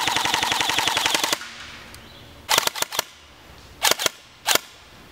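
An Oppenheimer PTW airsoft rifle fires full auto: a fast, steady rattle of shots for over a second, then several short, sharp bursts after a pause, loud and close, with no talking.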